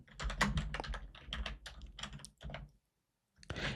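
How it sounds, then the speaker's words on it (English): A password is keyed in on a computer keyboard: a quick run of crisp, close key taps in an uneven rhythm, then a short pause and one more burst of typing. "I'll go ahead and key in a password for it."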